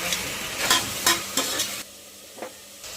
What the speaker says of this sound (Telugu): మిగతా అన్నీ వేసేసుకొని చేసుకున్న అల్లం ముద్ద కూడా ఆ కుక్కర్లో వేసుకొని బాగా కలుపుకోవాలి.